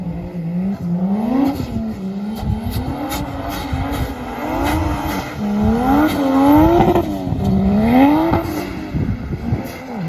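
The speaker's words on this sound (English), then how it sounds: "But man, car sounds so good." A drift car engine revs up and down repeatedly in rising and falling sweeps at a drift school, loud and close, with bursts of throttle and faint tire noise.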